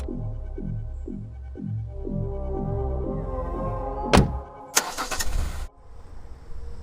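A car engine turns over and settles into a low throbbing idle. A loud thunk follows, then a rush of mechanical noise as the car pulls away, with no one speaking.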